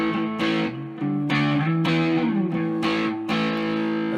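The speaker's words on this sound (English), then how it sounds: "Turbo 1 is supposed to give a powerful distortion" Distorted electric guitar chords through a Boss DS-2 Turbo Distortion pedal in Turbo 1 mode ring out loud and thick, struck roughly every half second to second, sustaining between hits with a gritty, saturated edge.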